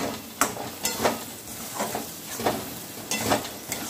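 Sour yogurt being stirred into a paneer and potol curry in a pan, rhythmic scraping strokes about every half second over a soft sizzle, close and moderately loud.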